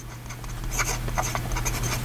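An ensso Piuma fountain pen with a generous medium steel nib, filled with Sailor Yamadori ink, writes on paper in short, close scratchy strokes in a quiet room.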